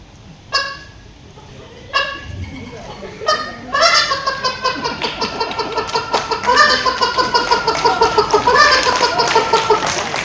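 A comedian on stage at a show in Bidar imitates a hen, giving a series of rapid, loud clucking and squawking calls that follow a few sharp separate cries and grow into a dense, continuous run up close.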